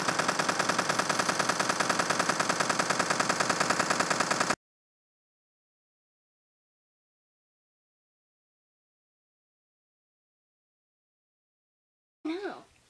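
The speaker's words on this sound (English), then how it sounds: "Oh my gosh, he has a big machine gun!" Rapid, sustained automatic fire from a big machine gun in a training session, loud and dense for about four and a half seconds, then silence until a brief burst of sound near the end.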